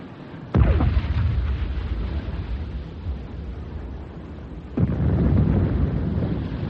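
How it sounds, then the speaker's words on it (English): A ship's guns fire incendiary shells in a radio play drama: a loud boom bursts out, then a sustained roaring rumble follows, and a second blast rises into continuing heavy noise. "Start pumping some explosive shells into her."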